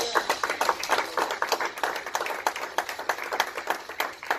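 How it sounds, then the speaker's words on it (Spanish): A church congregation claps together during a Spanish-language worship service, a steady run of sharp, close handclaps with faint voices mixed in. "Denle una ofrenda de palmas al Señor"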